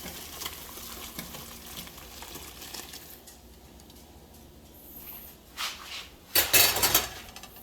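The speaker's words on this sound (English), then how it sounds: "I'm just going to strain them out and put the stock back in the pot." Boiled shrimp shells are strained out of stock, giving soft kitchen clatter and liquid sloshing under a low background hiss, ending with a louder burst of metal pot and utensil clanks.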